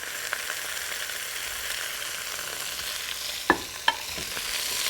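Vegetables with turmeric and coriander powder sizzle steadily in a pan as they are sauteed for an Indian soup. The frying hiss is close and continuous, with a couple of sharp utensil knocks near the end.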